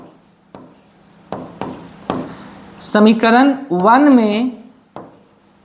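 A pen scratches across paper while an equation is written, making short, dry strokes spaced a moment apart, with someone speaking over part of the writing.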